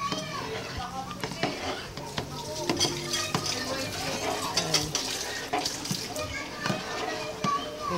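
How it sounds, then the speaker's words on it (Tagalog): Dissolved rice flour being stirred into a pot of ginataang bilo-bilo, with spoon scrapes and knocks against the pot over a gentle bubbling simmer, while someone talks and children are heard in the background. "Haluin po natin habang binubuhos yung tinunaw na galapong."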